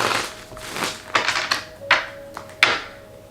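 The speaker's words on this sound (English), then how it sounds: "this tarot deck just shuffles amazing" Sun and Moon tarot card deck being shuffled by hand, a close, soft papery riffling with a few sharper snaps and taps over a few seconds, no voices.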